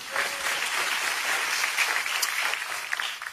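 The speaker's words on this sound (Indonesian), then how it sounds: "Berikan tepuk tangan yuk." A church congregation claps during a pastor's sermon, a steady wash of applause from many hands filling the room, moderately loud and sustained with no talking over it.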